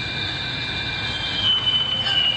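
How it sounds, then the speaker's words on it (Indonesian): A planetarium playback of electron waves gives a steady screeching, squealing metallic drone with high sustained tones over a low rumbling hum, continuous and fairly loud throughout. "Ini bunyi gelombang elektron."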